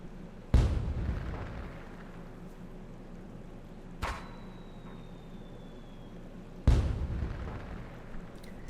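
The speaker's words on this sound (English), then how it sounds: "And here's the fireworks interaction." Fireworks bursting in the Tomodachi Life: Living the Dream video game: three sharp booming bursts, each decaying into a crackling tail, with a faint descending whistle after the second, heard alone without talk.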